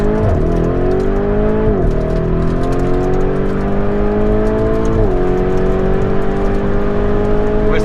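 A Lamborghini in Corsa mode accelerates hard on a runway, its loud engine climbing in pitch with two clear gear-shift drops, heard close and continuous.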